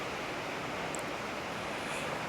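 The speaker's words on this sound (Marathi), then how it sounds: "हे पाणी पाणी वाहत आहे" A small waterfall near a village gives off a continuous, uniform rush of running water, fairly close and unbroken throughout.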